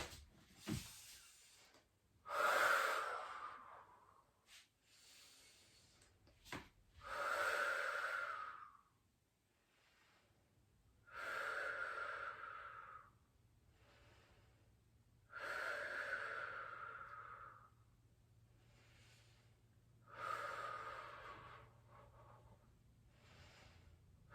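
Heavy, forceful breaths during an abdominal workout, five or six long loud exhalations, close to the ear, spaced a few seconds apart with quieter gaps between them and no talking.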